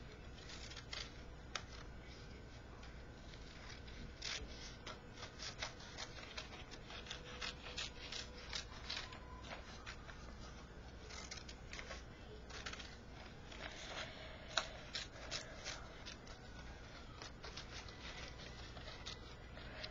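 Quiet close-up snipping and rubbing as a craft piece is cut out with scissors, with a soft irregular run of small clicks and scrapes and no talking.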